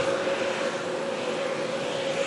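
A large passenger aircraft on approach to Manchester Airport, crabbing in a westerly crosswind, gives off a steady, broad engine roar with a constant whining tone, heard from a distance without pause.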